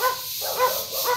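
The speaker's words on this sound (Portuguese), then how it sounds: "cachorro." Dog barking and whimpering near a farmyard gate among chickens and ducks, a couple of short yips close by with no talk.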